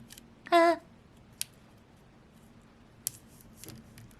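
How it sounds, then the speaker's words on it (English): A single short snip of scissors cuts through packaging, followed by a few faint clicks and taps in an otherwise quiet room. "I'm actually going to open this right now. Here's my trusty scissors."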